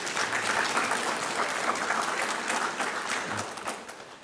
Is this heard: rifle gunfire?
no